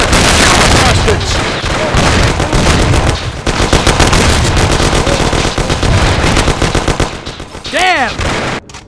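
Dense, sustained gunfire in Mafia: The City of Lost Heaven: loud rapid bursts of automatic and single shots crackling almost without pause, with shouted voices mixed in and a brief lull before the shooting resumes.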